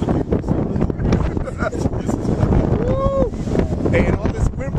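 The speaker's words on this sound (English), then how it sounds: "And all this wind blowing." Strong wind buffets the microphone at the Grand Canyon, a constant loud rumble with gusts, while people talk and exclaim over it throughout.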